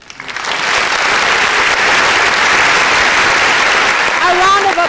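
Audience applause at a youth leadership debate final swells quickly into a loud, dense, sustained roar of clapping, with a voice calling out near the end.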